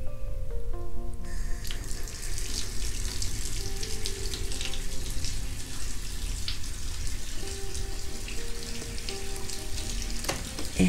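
Tap water gushes steadily into a bathtub in a home bathroom, a dense continuous splashing rush filling the space from start to finish, with faint clinks over it.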